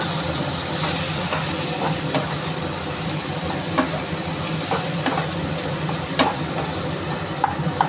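Spice masala with salt sautéing in oil, a constant close sizzle and hiss with scattered stirring scrapes and clicks from the utensil against the pan.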